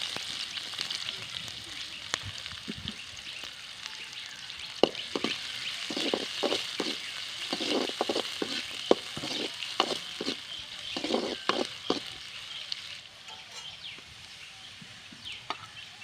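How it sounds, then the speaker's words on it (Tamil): Pork pieces fry in oil as onions go in, a soft steady sizzle broken by a run of sharp spatula clicks and scrapes in the middle, quieter again at the end. "எல்லா கறியும் எண்ணெயில் பொறிச்சு வச்சு எண்ணெய் ஊற்றிக்கலாம் வெங்காயம் போட்டுக்கலாம்"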